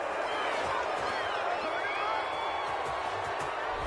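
A stadium crowd in a PS4 football video game reacts to a penalty call, a steady dense roar of voices filling the whole clip at moderate loudness, with no clear speech over it.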